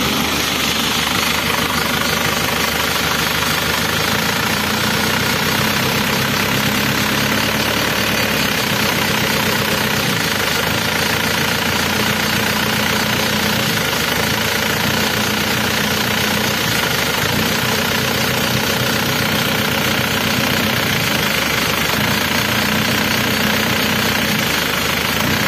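Isuzu Panther turbo diesel engine idling loud and close, a dense continuous clatter with a slightly uneven, knocking pulse running throughout and no voices.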